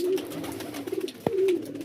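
A female pigeon coos softly nearby in two drawn-out low phrases, broken by a brief sharp click or knock in between.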